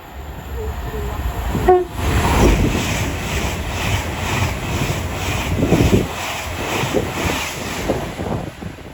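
An Avanti West Coast service bound for London Euston races through Watford Junction on the West Coast Main Line, a brief horn note followed by a loud, steady roar of the train passing close by.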